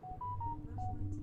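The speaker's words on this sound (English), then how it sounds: "Sorry, that was my phone." A mobile phone gives a short run of electronic tones, several quick beeps at varying pitch, quiet and brief. Low voices carry on underneath.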